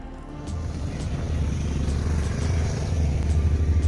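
Steady low engine rumble of a vehicle being driven by a helmeted driver, a continuous close drone with a slight rise in loudness and no voices.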